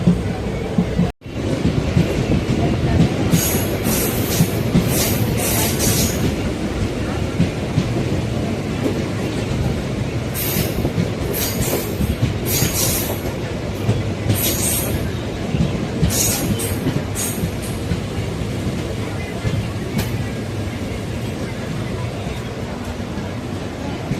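Passenger train running from Sengottai toward Tirunelveli, a continuous close rumble of wheels on track with rhythmic clatter and bursts of high metallic squeal, voices faintly present.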